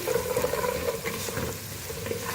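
A spoon stirs spices through green moong dal khichdi in a pot, a steady soft scraping and gentle bubbling simmer with no pauses.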